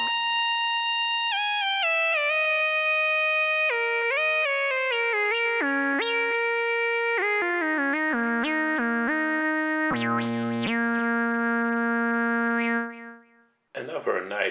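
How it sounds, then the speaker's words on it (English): Waldorf Rocket synthesizer with space echo effect, a bright harmonic lead playing a stepped descending and rising melodic line with echoing repeats, a brief swelling burst near the end, then cutting off before a short fresh sound. "Now the same sound with a little bit of space echo."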